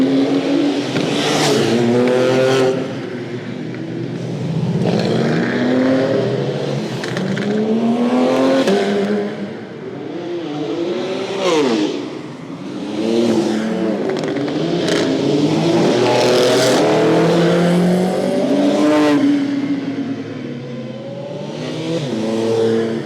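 A Porsche 935 race car roars along the Nürburgring Nordschleife, its engine loud and close as it revs up through the gears and changes pitch, sustained for the whole stretch with no voices.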